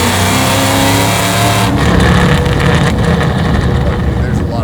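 A supercharged 1000 hp Terminator Cobra engine with a Whipple supercharger, revving loudly up close, then dropping to a rougher, lower rumble after a downshift, with voices talking over it.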